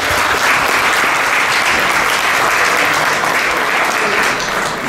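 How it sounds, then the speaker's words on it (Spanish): A large crowd at a law school forum gives a loud, sustained round of applause for parents and teachers, dense even clapping filling the room without a break. "Un fuerte aplauso para ellos"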